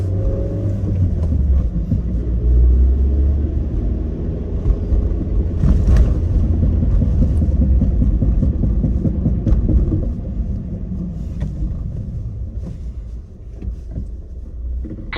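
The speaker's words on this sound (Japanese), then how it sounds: "走ってすぐフロントあたりからコンコンって音がしだします。" A Suzuki Swift Sport ZC31S on the move, with knocking from around the front end sitting under a steady low engine and road rumble, the knocks irregular and blended into the drive noise.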